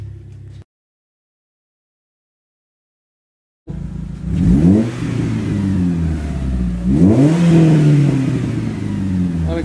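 Car engine revving through a new stainless steel exhaust system, two rising and falling revs after a stretch of silence, loud and close with a deep, throaty burble between them.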